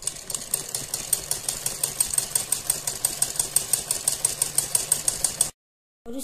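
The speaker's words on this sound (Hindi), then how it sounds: "पहले हम इस पे इस तरह से सिलाई लगाएंगे सीधी एक, और फिर बिल्कुल थोड़ा थोड़ा इसको दबाते हुए हम पूरी पट्टी को इस तरह से सिलेंगे।" A sewing machine stitches a fabric strip for a neckline design with a rapid, even mechanical clatter of needle strokes at close range. It runs steadily for about five seconds, then stops abruptly before a brief restart.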